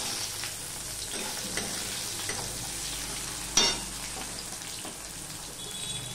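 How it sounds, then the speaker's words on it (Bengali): Onion dropped into hot oil in a pan, a steady close sizzle of frying with a brief louder sputter partway through, no voices. "পেঁয়াজটা আমি এবারে দিয়ে দেব।"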